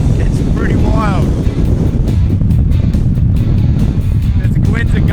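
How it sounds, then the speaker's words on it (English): Strong gusting wind on a wild stretch of the northern British coast, roaring and buffeting the microphone in a loud, continuous rush, with a few faint tonal sounds through it. "There's winds are gusting up to over 100 k's an hour."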